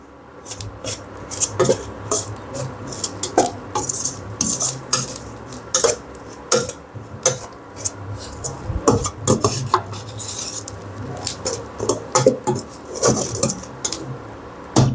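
Kamarkattu ingredients dry-roasting in a pan, a spoon scraping and clinking against the metal in steady irregular strokes, close and fairly loud, with no talking.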